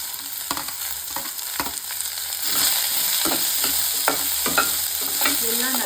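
Onion, garlic and curry leaves sauté in hot oil for a banana flower fry, with a steady sizzle under scattered clicks and scrapes of a stirring spoon that grows louder and busier partway through.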